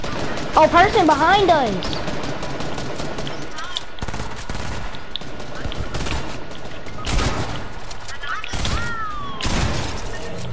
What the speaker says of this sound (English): They're shooting at us. Somebody shooting.